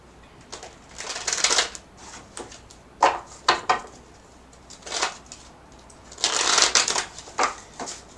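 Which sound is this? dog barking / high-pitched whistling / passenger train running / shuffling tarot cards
shuffling tarot cards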